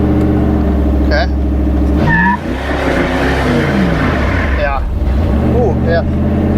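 A 3rd generation Camaro V8 revving in drive after a new Hughes 3000 stall torque converter install, loud and close, the engine rising and falling in pitch as it tries to shift, with voices talking over it.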